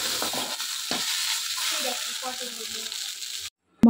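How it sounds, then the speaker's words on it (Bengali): Ghatkol leaf paste fries in oil with a dense, continuous sizzle and a few stirring clicks, cutting to brief silence near the end before a sharp knock. "দিয়ে আমি এটাকে ভালো করে ভেজে নেব তেলে"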